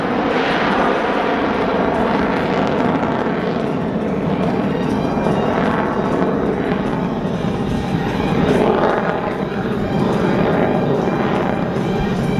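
Military jets at the Sun 'n Fun airshow roar in for the tactical pitch, a loud, continuous jet rumble that swells and fades slightly without a break.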